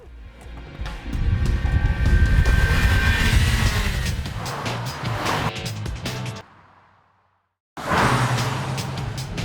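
Mazda3 MPS hot hatch with a 2.5-litre four-cylinder engine, loud and close, a sustained roaring drive that swells and fades, cuts to near silence for about a second, then resumes strongly.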